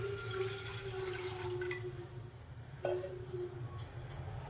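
Soft water pours into a metal pressure cooker with a faint ringing tone, quiet and close, then a brief splash near the end.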